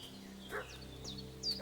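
A dog barks in the video game Kingdom Come: Deliverance II, a few faint, distant barks over a quiet ambient game background with low hum.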